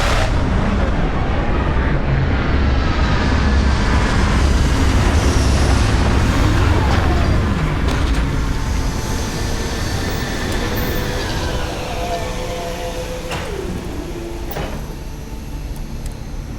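Spaceship landing in the video game Starfield: a loud, continuous, close engine roar and deep rumble with sweeping whooshes, holding steady before easing slightly toward the end.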